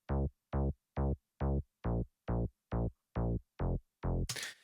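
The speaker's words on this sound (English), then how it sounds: "now it's the turn of that kind of offbeat synth bass" A deep reFX Nexus synth bass plays short evenly spaced notes in a steady offbeat pulse, each note cut off cleanly, ending in a burst of noisy hiss.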